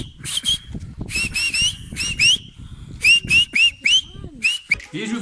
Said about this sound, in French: regarde comment je sais siffler